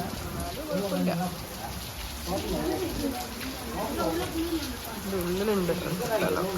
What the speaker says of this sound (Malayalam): നല്ല മഴയും കാറ്റും.